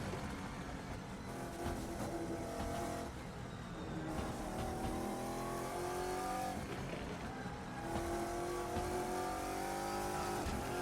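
A Saleen / Shadow V8 race car in the Assetto Corsa sim racing game at Spa, its engine roaring loud and continuous as it revs up through the gears, with pitch rising and dropping at each shift.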